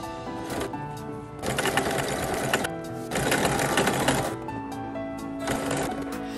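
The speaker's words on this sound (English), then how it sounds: "we're going to stitch these together" Sewing machine stitching the back seam of a towel robe: steady mechanical whirring in bursts separated by short pauses, close and clear with no talking.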